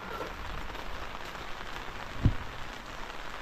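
Light rain falls steadily, a soft, even hiss of drops on surfaces with a single dull knock partway through; quiet and continuous, with no voices.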